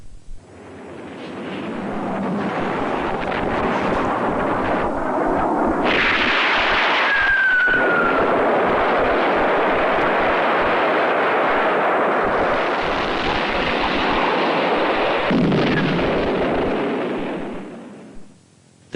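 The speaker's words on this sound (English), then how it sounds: "they retaliated by bombing villages that they suspected of supporting or harbouring them" Bombs explode over villages as a dense, sustained roar of heavy blasts and rumbling, loud and continuous, with surges of booming impacts and no speech.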